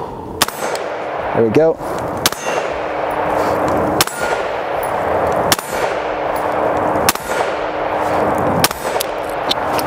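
A firearm with iron sights is fired at a range in about six sharp, evenly spaced shots, each with a metallic ring on impact. Someone speaks briefly between the shots.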